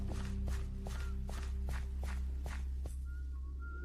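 Footsteps and whistles in the Minecraft video game: a regular series of about eight soft steps over a low steady hum, followed by a few short high whistle tones near the end.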